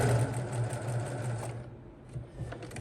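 Domestic sewing machine stitching a seam on a blue hexagon quilt, its rapid needle chatter running steady and close, easing off briefly near the end before picking up again.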